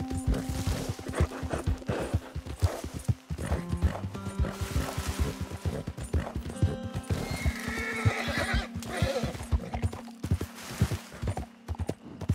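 Horse in Red Dead Redemption 2 whinnying loudly up close, with clip-clopping hooves and snorts throughout, game music faintly underneath.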